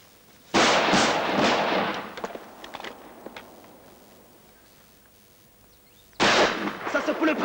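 A volley of rifle gunfire in a French-language film, with a loud burst of shots followed by scattered cracks and fading echoes, then a second loud burst of firing near the end.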